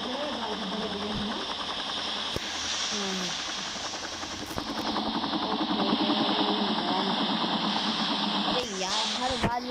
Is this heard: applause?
no